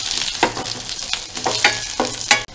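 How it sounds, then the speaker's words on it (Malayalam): Crushed garlic dropped into hot oil for rasam crackles loudly and close, with repeated bursts of sizzle and stirring scrapes over a constant frying hiss. "രണ്ട് വെളുത്തുള്ളി ചേർത്ത് കൊടുക്കാം"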